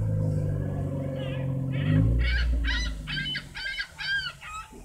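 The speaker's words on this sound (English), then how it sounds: "You hear that bird up there?" A bird perched on a light post at a beach gives a run of about eight loud, rhythmic squawking calls over low wind and vehicle rumble, with faint crowd noise behind.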